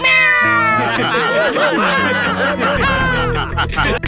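A person imitates a cat's meow with drawn-out, wavering cries, loud and close, while other voices chatter and laugh in the background.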